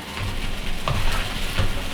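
Bokkeumbap, Korean fried rice, sizzling steadily in a hot pan as it is stirred, a loud continuous frying hiss with soft scraping strokes of the spoon, close up and without talk.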